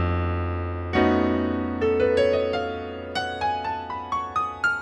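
On what sounds like piano, a jazz shell voicing rings out with a flat 13 and a sharp 11, sustained, followed by a run of single notes climbing upward, each struck clearly and left to decay, with no talking.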